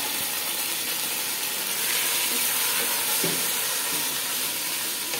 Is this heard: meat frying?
yes